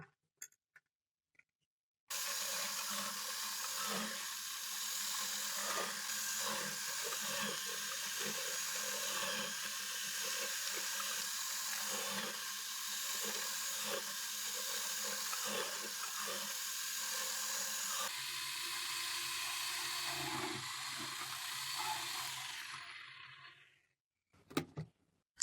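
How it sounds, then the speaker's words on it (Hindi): A food processor grates small pieces of carrot for carrot halwa, its steady whirring motor and rattling cutting blade starting after a short silence and running continuously for about twenty seconds before winding down. "इसलिए हम इसको मशीन में कद्दूकस कर रहे हैं।"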